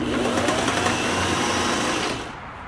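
A Singer 503A sewing machine runs at a steady, fast whir up close for about two seconds, then winds down and stops.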